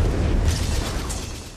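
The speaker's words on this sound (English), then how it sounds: "when I ignited it, the fire spread through every window and the explosion was immense." A deep, rumbling explosion from ignited thermite in The Order: 1886 video game, a loud sustained boom with crackling fire tail that slowly fades over under two seconds.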